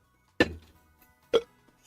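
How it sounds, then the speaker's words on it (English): A burp from a person during a relaxed live stream, two short throaty bursts a second apart, close and fairly loud against near silence. "If you hear my burping"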